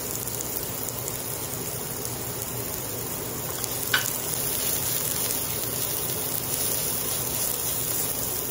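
Garlic fries in a pan after ginger, a steady soft sizzle with a faint clink midway, heard alone and fairly quiet.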